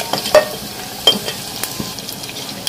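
Chopped onions frying in hot oil in a clay pot, a close sizzle broken by sharp scraping stirs and clinks of a utensil against the pot.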